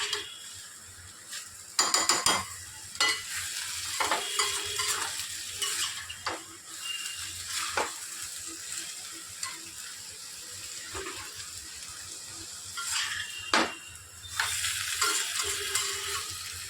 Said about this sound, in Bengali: এইভাবে কষিয়ে নিলে মাছটার মধ্যে মশলাটাও ঢোকে